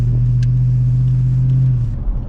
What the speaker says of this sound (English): This exhaust setup that I have on this truck is real nice. Not super quiet and it's not super loud either.